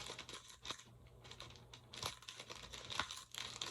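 A package of packing peanuts gets cut open nearby, with crisp crinkling, tearing and scattered clicks of plastic and foam in short bursts.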